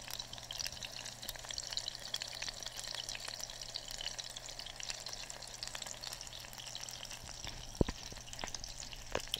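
Sausages frying in a pan for an English breakfast, a steady close crackling sizzle with scattered pops and spits, continuous and unbroken with no talk.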